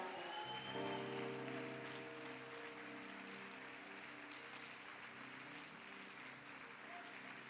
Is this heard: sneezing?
no